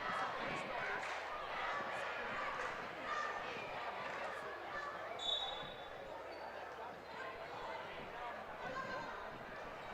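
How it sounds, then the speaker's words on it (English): A high school basketball crowd in a Forest City gym keeps up a loud, rhythmic chant, with sneaker squeaks and ball bounces underneath and an announcer's voice over the top. "Forest City crowd now getting their go big red chants in"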